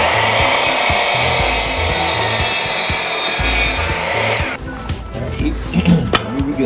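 A hand saw cuts half an inch off a piece of wood in loud, rhythmic back-and-forth rasping strokes, close by. The strokes stop near the end, leaving scattered knocks and handling sounds.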